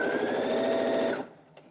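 A Brother Innov-is A150 sewing machine stitching a straight stitch at high speed, around 850 stitches per minute, makes a fast, steady whirring clatter that stops abruptly, followed by a few faint clicks.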